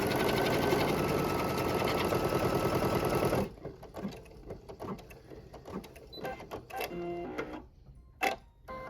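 An embroidery machine stitches a quilting design in a steady, loud, rapid mechanical whir for several seconds, then stops abruptly, leaving faint clicks and handling noises.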